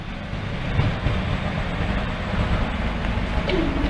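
Train 153 385 bound for Doncaster passing Lincoln Central level crossing, a steady rumble of wheels and engine with faint rail clatter, moderately close, with no talk.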